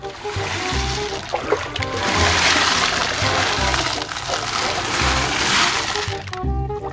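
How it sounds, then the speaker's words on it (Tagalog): Pebbles poured into a turtle pond make a loud, continuous clattering, splashing cascade with rattling bursts over several seconds, trailing off into quiet at the end. "Bali, bubuhos lang natin yung pebbles dito."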